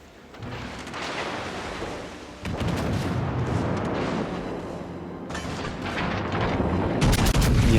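Ship gunfire in World of Warships Legends, with repeated booming artillery shots and rumbling blasts over a dense, continuous battle din that grows louder toward the end.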